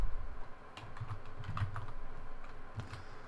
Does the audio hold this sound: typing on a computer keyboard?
yes